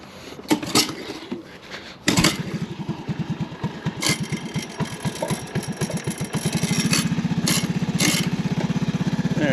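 An old Honda ATV engine cranks with a few false tries, catches, and settles into a steady close putter that grows stronger toward the end.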